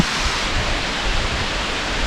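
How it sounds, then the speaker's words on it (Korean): A waterfall in the Dutasan mountains in Donghae, swollen after recent rain, roars as a dense, steady broadband rush, loud and continuous with no voices. "폭포가 바로 정면에 있죠"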